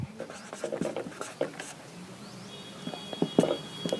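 Pen scratching on paper as a math solution is written out by hand, in quick soft strokes and taps, with a voice speaking faintly at times.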